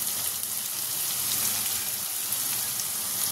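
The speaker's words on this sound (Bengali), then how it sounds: "দেখো, মশলাটা ভালো করে বেশ কষিয়ে নিয়েছি" Masala sautéing in a pan with salt, turmeric and Kashmiri red chilli powder gives a steady, close hissing sizzle that holds evenly throughout, with no talk over it.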